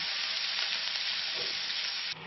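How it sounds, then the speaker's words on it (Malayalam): Bitter gourd sautéing in a covered pan for a Malayalam pavakka thayiru kichadi gives off a steady, loud, even sizzle. The hiss carries without a break and softens slightly near the end. "ഇത് നന്നായിട്ട് വഴറ്റിയെടുക്കുക. അടച്ചു വെച്ച് വഴറ്റുക."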